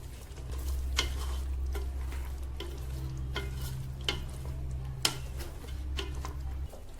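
Mutton biryani masala with squeezed lemon juice and thinly chopped green chillies is mixed in a vessel, with repeated scraping strokes of the spoon at an uneven rhythm over a steady low hum.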